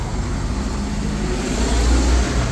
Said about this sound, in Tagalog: Malossi setup na Primavera 150. Yan. Yan, naka Malossi exhaust.